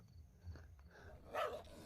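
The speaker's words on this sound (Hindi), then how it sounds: "आपने जैसे अभी सुना होगा कैमरे के अंदर आवाज़ आई है कुत्तों की भी।" Dogs bark in the distance, a faint scattered call early on and a brief louder burst near the end, over a quiet outdoor background with no talking.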